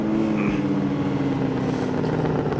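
A car engine in the video game Gran Turismo 4 drones and revs steadily, loud and continuous, with a low rumbling tone throughout.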